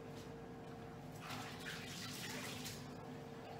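Water running steadily from a tap while hands are washed under it in a kitchen, a continuous close splashing rush with no talking.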